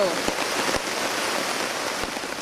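Steady rain falling on a forest camp and dripping off a rain tarp, a continuous even hiss with a few soft drip taps, close and fairly loud with no other sound.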